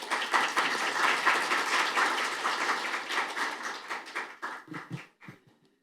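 An audience at a National Assembly public hearing claps to greet a lawmaker, a full burst of dense applause that holds for several seconds, then breaks into a few scattered claps and fades out.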